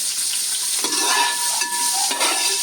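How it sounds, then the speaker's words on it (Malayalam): Small shallots sautéing in a pan for a Kerala-style country chicken roast, a loud, close, steady hissing sizzle with a few soft clinks of a spoon stirring, no speech. "വാടി വരട്ടെ ചെറിയുള്ളി"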